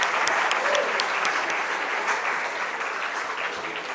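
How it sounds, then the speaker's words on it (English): A university day audience gives sustained applause for the awardees, dense clapping from a sizable crowd that carries steadily and eases slightly toward the end. "Let's have a round of applause for the awardees"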